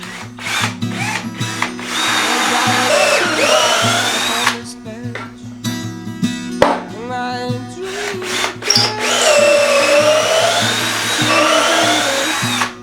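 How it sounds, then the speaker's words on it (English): A pillar drill whirs steadily in bursts, with brief pauses and shifts in pitch as it bores holes into material, close and loud. "drilling perfectly straight and square holes"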